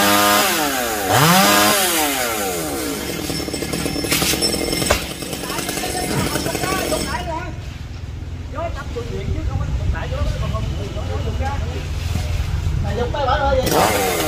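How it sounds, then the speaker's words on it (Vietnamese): Chainsaw cutting a tall Dipterocarp tree, a loud whining engine rising and falling as the saw works, close by. People talk over it, and a harsh, noisy stretch follows as the cut finishes. "Cái cây bên anh Hiền thì đã cưa xong rồi nha cả nhà"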